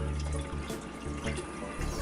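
A water filter housing is rinsed under running water, brief splashing and swishing flow with small sloshes, fairly quiet and close.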